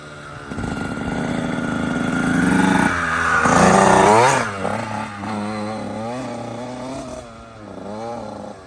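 Dirt bike engine running loud and close, revving up and down in repeated surges with a rising whine around mid-clip, then settling into an uneven revving idle.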